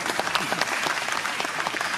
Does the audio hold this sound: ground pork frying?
no